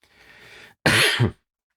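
A single harsh cough bursts out close to the microphone after a short stretch of faint breathy noise, loud and abrupt, lasting about half a second before silence.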